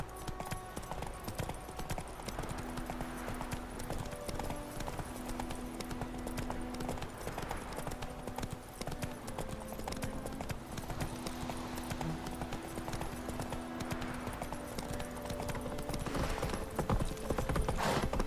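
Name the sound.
horse galloping in The Witcher 3 video game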